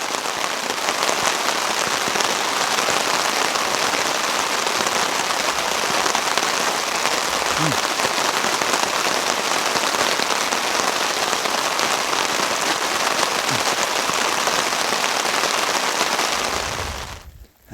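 Steady rain patters on surfaces around a canoe campsite, a dense even hiss that continues unbroken for the whole stretch before cutting off at the end.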